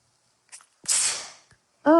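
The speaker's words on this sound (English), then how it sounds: "I have to sneeze." A single close sneeze: a short sharp intake, then a loud breathy burst lasting about half a second, followed by a brief voiced sound.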